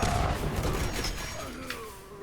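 In the video game Fallout 76, an explosive railway rifle's blasts go off, a burst of loud booming crackles at the start that fade into a rumbling, creaking tail.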